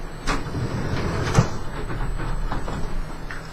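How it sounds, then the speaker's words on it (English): A door being closed indoors: a few soft knocks and a dull thud of it shutting, with faint rustling around it, all fairly quiet. "I'm going to close my door real quick"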